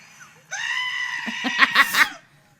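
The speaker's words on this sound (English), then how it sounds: "Have you ever heard the goat scream?" Goat scream: one long, loud, strained cry that rises, wavers and breaks into a harsh warble before trailing off, heard close and alone over faint hum.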